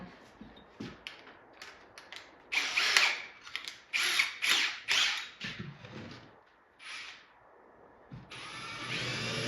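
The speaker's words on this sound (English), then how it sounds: "we'll use the hole saw, drill these out" A power drill with a 1 3/8 inch hole saw whirs in several short, loud bursts with pauses between them, sounding close as it cuts into the wood of an arcade cabinet.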